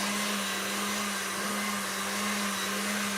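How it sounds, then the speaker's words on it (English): Electric beaters whip egg yolks on high speed for a matcha Swiss roll, giving a steady, loud, unbroken motor whine with a constant hum that runs evenly from start to finish with no talking. "we're gonna whip the yolks on high speed until they more than double in volume"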